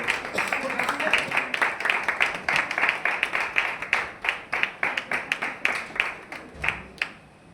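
A church congregation claps steadily as the pastor arrives, a continuous rhythmic patter of many hands with a voice speaking underneath.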